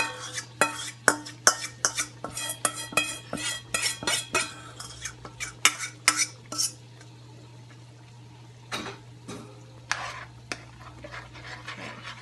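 A spoon scrapes and clinks against a metal pot or bowl while stirring seasoning into a Cajun shrimp pasta dish, a quick run of close, repeated taps and scrapes, then a pause and a few more strokes over a steady low hum.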